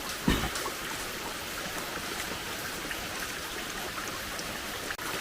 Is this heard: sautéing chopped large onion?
no